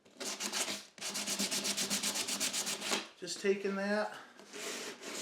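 Wood on a home door project sanded back and forth to clear small burrs, a rhythmic scraping rasp of quick strokes that pauses briefly, with a voice speaking over the later part.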